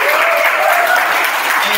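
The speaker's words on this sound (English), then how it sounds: "Let's give them one more round of applause." Panel event audience applause for panelists, a loud, dense wash of clapping that fills the room continuously for under two seconds, with no speech.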